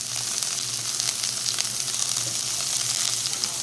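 Olive oil sizzles steadily in a frying pan on a stovetop, a continuous close hiss of frying with a faint low hum underneath and no talking.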